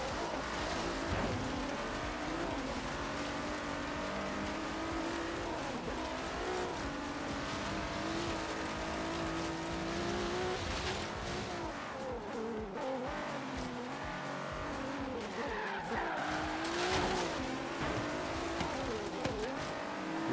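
A Nissan 350Z drifting in Forza Horizon 3 during a street race, its engine droning steadily while the tires squeal and skid in long sustained stretches at a fairly faint level.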